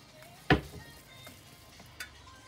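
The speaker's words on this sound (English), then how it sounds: "I'm going to heat up my pot. We call nabe in Japanese. And I'm going to add some salad oil" Salad oil heating in a Japanese nabe pot, giving a faint steady sizzle with a sharp clatter near the start and a lighter clink later, close and quiet with no talk.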